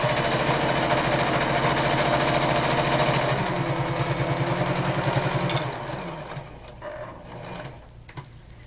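Close, loud whirring of a sewing machine doing a straight stitch on a reversible elastic headband, running fast and continuous before slowing and fading into softer handling noise near the end.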